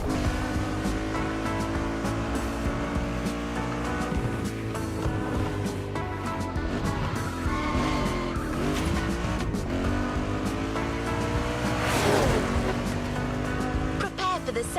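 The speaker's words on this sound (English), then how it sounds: "There's an absolute classic heading your way, a grail among collectors and Jim's greatest pride, the Mustang Boss 429." A Ford Mustang Boss 429 classic muscle car in the racing game The Crew Motorfest, its engine droning steadily with rising and falling revs and a sharp tire squeal near the end, under continuous background game sound.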